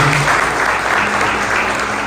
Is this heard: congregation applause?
yes